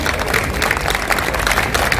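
An audience at a Hindu gathering held in an apartment society hall claps steadily, a dense, even patter of many hands with no clear pauses.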